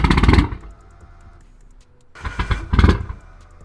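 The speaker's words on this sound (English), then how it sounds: "It's turning the car over to where it's gonna start." A car engine turns over with a battery plugged in, two loud bursts of cranking and catching separated by a quieter low hum, close by with no talk.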